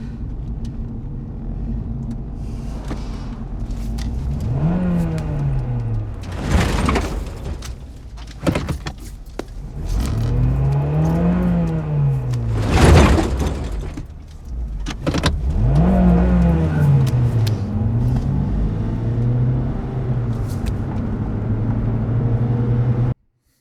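Heard from inside a car during aggressive driving, the engine revs up and down in repeated rising and falling sweeps, with loud bursts and thuds between them.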